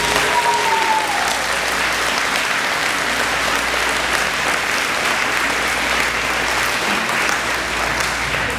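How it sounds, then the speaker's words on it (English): A campus audience claps during a college president's address, a sustained, even roar of applause from a large crowd that carries on for several seconds. "I'm glad you all clap"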